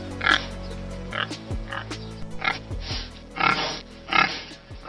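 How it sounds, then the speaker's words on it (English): Cartoon pig sound effect of repeated oinks and grunts in short uneven bursts, loud and close, with no speech. "Pig."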